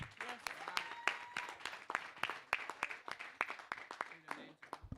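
Audience applause at a youth and Father's Day celebration, a burst of scattered claps building and fading over a few seconds, with voices talking over it.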